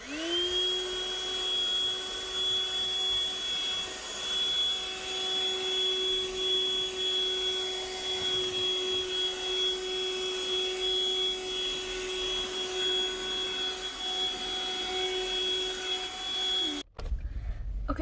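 A car vacuum cleaner runs steadily at close range, its high motor whine holding constant for most of the stretch before cutting off abruptly near the end; no one speaks.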